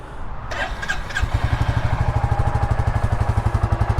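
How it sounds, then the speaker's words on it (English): A 2022 Royal Enfield Classic 350 motorcycle in Desert Sand fires up and settles into a steady, loud, close thumping single-cylinder beat as the bike pulls away, with a brief clatter at the start. "These things have the coolest sound."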